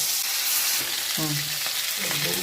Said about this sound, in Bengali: তেলটা গরম হয়ে গেছে, মাছটাকে হালকা ভেজে নিই।